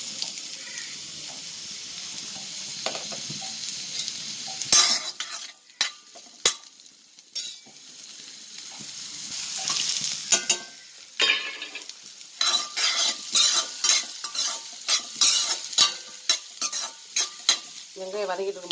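Small onions sautéing in sesame oil for a country chicken curry, with repeated scraping and stirring clatter of a utensil against the pan over a steady sizzle, loud and close, with no talking.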